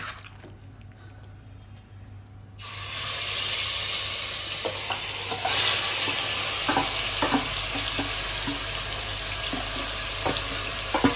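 Mutton pieces frying with spices in a hot pan: a quiet start, then a loud, steady broadband sizzle kicks in with occasional stirring clicks and spatters throughout.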